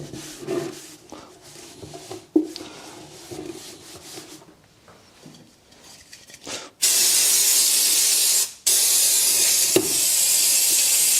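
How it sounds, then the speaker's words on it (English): Aerosol brake cleaner sprayed into the oil sump pan of a Land Rover 300TDI being resealed, after some quiet handling and rubbing: two long, loud, steady hissing bursts with a brief break between them. "You gotta love brake clean, haven't you?"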